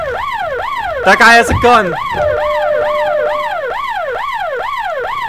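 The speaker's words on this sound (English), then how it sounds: "Jeez, that is loud sirens." Loud wailing emergency sirens in the prison video game Hard Time 3, sweeping up and down steadily and close, with a brief shouted line over them early on.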